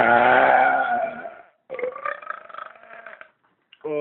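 Two long, loud, close burps with a short silence between them, the first deep and rumbling, the second choppier, and a third starting just as the clip ends.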